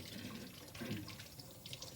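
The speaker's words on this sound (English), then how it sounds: "now washing his hands" Tap water running into a sink while a child washes his hands, a quiet, continuous splashing stream with small bursts of louder spatter as the hands move under the flow.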